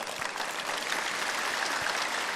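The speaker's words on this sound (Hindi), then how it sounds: "एक बार जोरदार ताली बजा दो इसके लिए" Audience applause at a Swami Ramdev yoga health gathering, steady dense clapping from a large crowd filling the space evenly, moderately loud and sustained without talk.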